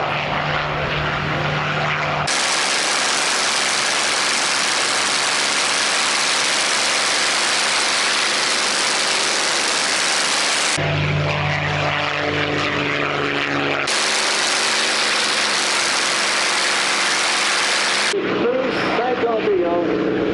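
Supermarine Spitfire aircraft engine roaring steadily and loudly in flight, heard close and continuous for about twenty seconds, with the tone shifting slightly between passes and a brief change near the end.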